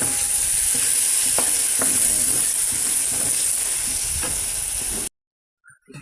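Canned corned beef sizzles loudly with onions in a frying pan under a constant close hiss, with scraping strokes of stirring at intervals. It cuts off abruptly near the end, followed by a couple of faint knocks.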